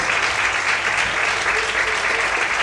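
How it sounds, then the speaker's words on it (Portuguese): Congregation in a church service applauding, a loud, continuous wall of clapping from many hands with no pauses. "Se você crê, aplaude, glorifique e exalte ao nome do Senhor"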